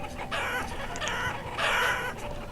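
Chickens in the video game Banished cluck repeatedly, with a rooster-like crow in the middle. The sound is fairly close, continuous and fills the whole stretch without talk.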